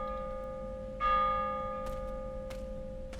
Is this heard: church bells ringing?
yes